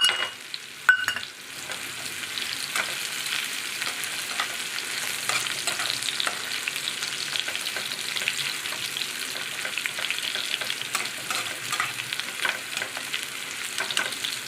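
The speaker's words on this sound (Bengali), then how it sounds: "একটু লাল লাল করে ভেজে নেব।" Chopped ginger and garlic frying in hot oil in a pan for a soya chunk curry, a steady, close, dense sizzle that runs throughout, with a few small knocks and stirring scrapes near the start.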